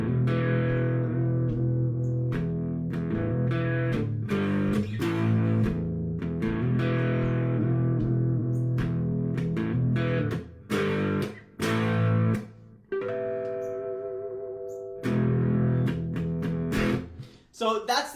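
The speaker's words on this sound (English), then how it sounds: "So that's the sound of the electric guitar." A Fender Mexico Stratocaster electric guitar played through an amp, ringing chords and single notes with a slightly driven tone, strummed in phrases with brief pauses and muted stops, close and fairly loud.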